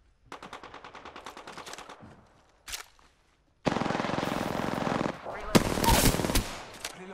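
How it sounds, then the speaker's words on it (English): Video game gunfire: a rapid burst of automatic fire, a short pause and a lone shot, then long, loud sustained machine-gun volleys near the listener, with a voice speaking in between. "Shots fired at me"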